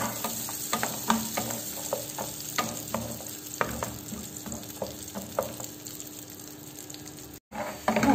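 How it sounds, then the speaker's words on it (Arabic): A small amount of almonds toasting in a little butter in a pan gives a quiet, steady sizzle, with repeated soft scraping clicks from stirring and a brief break near the end. "رايحة نحمصو هكا بشوية زبدة باش يعطيني هذاك اللون الذهبي"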